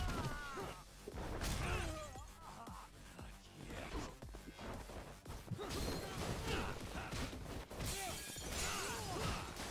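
Glass shatters during a brawl in the PlayStation 5 video game Judgment, with dense, repeated crashing and smashing impacts and whooshes in a busy, continuous mix of game sound.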